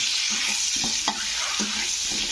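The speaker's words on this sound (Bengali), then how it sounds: "তো চলো ডিমগুলোকে ভেজে নিই একটু।" Scored boiled eggs fry in a pan for a South Indian-style egg curry, giving a steady bright sizzle with a few soft stirring knocks and spatters, close and alone.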